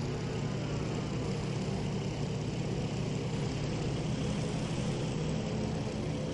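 Aircraft engine drone in the IL-2 Sturmovik combat flight game, a steady broadband propeller roar held at even loudness throughout with no voices.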